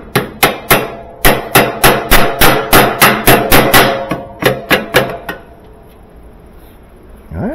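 Hammer blows strike a washing machine part during a rebuild of an old Whirlpool Planform washer, about fifteen sharp metallic strikes in a steady rhythm, then a quiet pause and one last knock.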